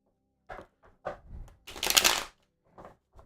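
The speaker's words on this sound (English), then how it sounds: "One more shuffle." Tarot cards are shuffled by hand in short riffling bursts, one louder sustained riffle in the middle among softer taps and slides, close and fairly quiet with no talk.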